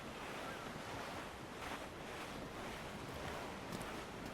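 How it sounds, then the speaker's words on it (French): Wind and ocean surf at sea in Assassin's Creed Black Flag, a steady, dense roar of waves and gusting wind that stays loud and even throughout, with no talking. "Le vent a forci."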